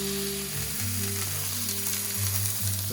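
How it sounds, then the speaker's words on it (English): Beef for Beef Wellington sears in a hot pan, ends and all, giving a continuous close sizzle over a low steady hum, with no voices. "Get the ends nice and seared too."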